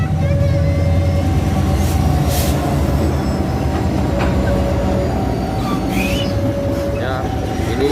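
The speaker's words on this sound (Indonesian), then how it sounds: "Ini adalah kereta api Babaranjang yang membawa batu bara dari arah Tanjung Enim" Babaranjang coal train hauling coal from Tanjung Enim rumbles past at Simpang Blimbing, Muara Enim, with a steady loud roar of wagons and wheels, a sustained horn-like tone and occasional wheel squeal, continuous throughout.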